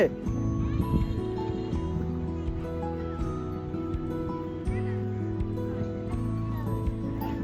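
Goats bleat on a sandy river island on the Padma near Rajshahi, a steady run of nasal harmonic calls close by, with voices and other farmyard sounds mixed in throughout.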